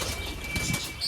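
A captured pigeon gives a brief, soft coo, close by, alongside faint rustling in a pet enclosure being cleaned.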